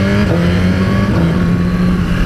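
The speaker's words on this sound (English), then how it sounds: "And that quick shifter, let's see where I go again" 2018 Suzuki GSXR1000R motorcycle accelerating hard, a loud close engine roar with the pitch climbing and a brief dip where a quick shifter gear change cuts in, then rising again.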